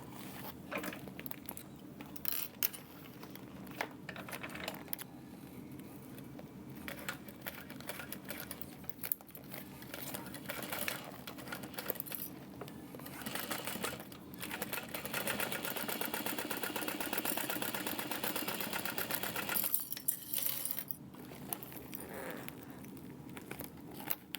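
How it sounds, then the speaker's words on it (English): Sewing machine stitching through layered fabric of a tote bag along a curve, a steady mechanical whir with a few pauses and restarts, close and moderately quiet throughout. "I'm going to try to hold the curve up as I'm sewing it."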